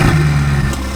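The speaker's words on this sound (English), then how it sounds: "we're gonna do the startup of the Ferrari 488 with the new exhaust" A Ferrari 488 engine with a new exhaust rumbles loudly in a deep, steady idle at startup, close and heavy, with a brief rise in tone.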